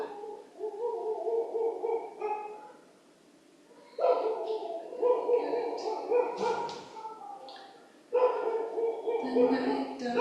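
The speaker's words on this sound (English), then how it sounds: "The night dogs." Several dogs bark, yip and whimper at night in repeated bursts, fairly close, with pauses between volleys and people talking over parts of it.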